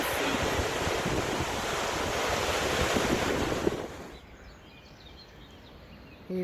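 A powerful fountain sprays water about 50 metres away at a park with ponds: a loud, dense rushing hiss with wind buffeting the microphone, dropping to a softer wash near the end.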